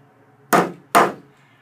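A hammer striking down protruding staples gives two sharp, close knocks about half a second apart, with quiet between them.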